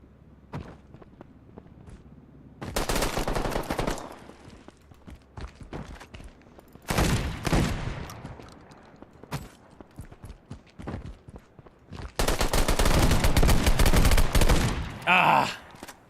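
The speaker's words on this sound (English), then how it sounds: "That shotgun, bit of a spread." Shotgun blasts in the Midnight Society shooter, loud bursts of several shots spread across the scene with quieter footsteps and movement between them. A voice speaks in places.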